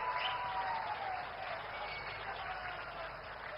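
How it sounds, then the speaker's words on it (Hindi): Faint, steady applause from an audience at an official ceremony in Jharkhand welcoming the Prime Minister, a soft, even wash of clapping that holds for a few seconds without voices on top. "तालियां होती रहे आपकी ओर से"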